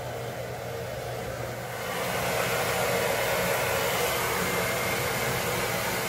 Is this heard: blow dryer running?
yes